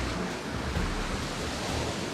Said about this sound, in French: il y a des grosses vagues, il y a des gros rouleaux qui passent, qui couvrent complètement les rochers de temps en temps